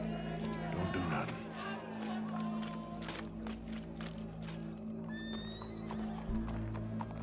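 Horse in Red Dead Redemption 2 giving a loud whinny amid clip-clopping hooves, with game crowd chatter and voices talking around it.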